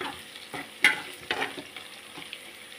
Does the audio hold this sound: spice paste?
yes